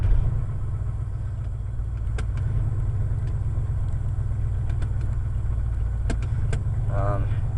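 A 1980 Ford F100 engine runs steadily after a cold start, a loud low rumbling idle that holds constant throughout, with a few faint clicks and a brief voice near the end.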